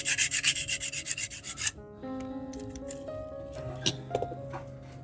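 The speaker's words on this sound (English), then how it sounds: "Let's just do some quick sanding to get better connection" Model car parts are sanded by hand in quick, close scratchy strokes for a couple of seconds, followed by quieter light rubbing, tapping and small clicks.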